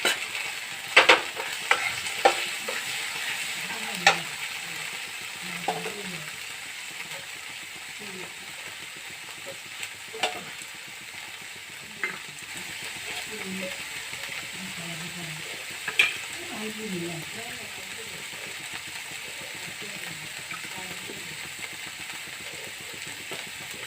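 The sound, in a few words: onion paste frying in a pan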